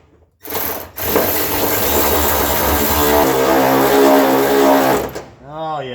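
A power tool whirs and ratchets continuously up close while tightening battery box bolts on a Vice Grip Monza car, running steadily for several seconds before stopping, with a brief voice at the end.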